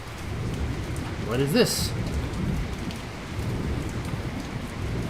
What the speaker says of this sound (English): Oh, the rains have come back to the savannah.